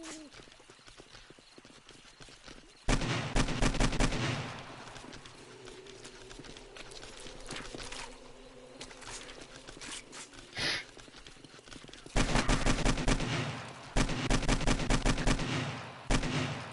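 Rapid bursts of AK rifle gunfire in the zombie survival game 7 Days to Die, loud repeated volleys separated by quieter stretches with light game ambience between them.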